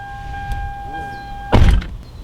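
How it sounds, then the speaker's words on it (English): A 2006 Toyota Camry car door slams shut once, a solid thunk against a steady electronic chime tone, then the cabin falls quiet. "and then close the door."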